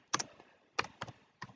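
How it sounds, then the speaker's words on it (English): Quiet typing on a computer keyboard, a few sharp clustered keystrokes in uneven bursts, close and soft with no talk. "typing is a little rough today"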